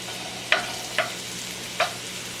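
Pork frying in a little over a quarter cup of melted fat gives a steady soft sizzle, punctuated by three sharp scraping stirs, close and clear with no talk.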